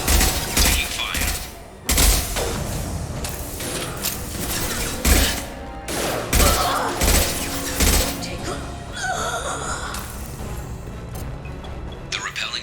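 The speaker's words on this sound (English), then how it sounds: "Taking fire." Dense, chaotic gunfire and impacts in the Mass Effect 2 video game, with rapid bursts, crashes and thuds layered over a constant loud mix of game sound throughout.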